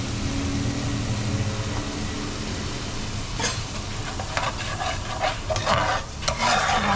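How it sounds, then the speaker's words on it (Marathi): Homemade Malvani masala roasts in a pan with a steady, dense sizzle, while a spatula scrapes and stirs in several sharp, close strokes over the continuous frying hiss. "अजून 3-4 मिनटं भाजून घ्यायचं"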